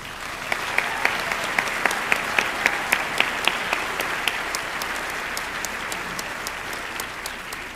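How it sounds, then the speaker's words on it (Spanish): An audience at the opening ceremony of a film festival applauds, a dense wash of many hands with sharp individual claps near the front, gradually thinning toward the end. "Un aplauso para todos ellos."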